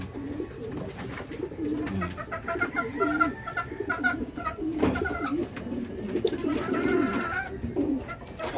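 Pet pigeons coo in low, throaty, repeated bursts close by, several birds overlapping with soft wing flutters and rustling in between.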